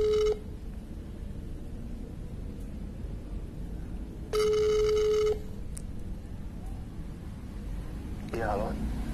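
Electronic phone tones sound in short bursts: a brief tone at the start, a longer ringing tone mid-way, then a faint tone near the end over low background noise.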